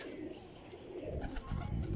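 Champion flying pigeons coo close by in a soft, continuous low murmur, with overlapping calls rising slightly toward the end and no talking.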